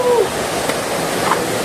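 Tantaran waterfall in Palawan gives a steady broadband rush of falling water, near and constant, with faint voices over it.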